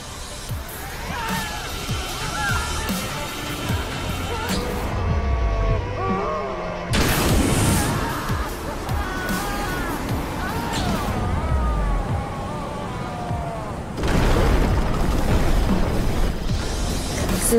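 Explosions in the Xbox One game Screamride: repeated crashing booms and debris rumble in heavy bursts, with sharp resets between them and an announcer-style voice speaking over the chaos.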